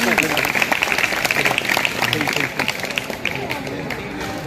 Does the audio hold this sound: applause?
yes